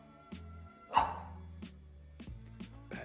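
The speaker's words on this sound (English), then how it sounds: "He's not going to stop barking." A dog indoors barks several times in uneven bursts, one louder bark standing out among softer ones, fairly close but at modest volume with no voices over it.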